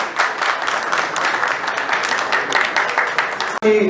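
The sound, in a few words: audience applause welcoming a guest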